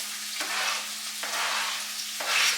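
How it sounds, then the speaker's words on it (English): Chunky onion pieces sizzle in a hot pan for corned beef hash, a steady bright frying hiss that swells in waves as the pieces are stirred, with a faint low hum running underneath. "So I'm just going to put the onion in here."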